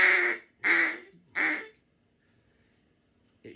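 Matt Pierce Small Bore mallard duck call blown in three loud, nasal quacks with a steady rhythm, close and clear, followed by near silence and a brief faint click at the end.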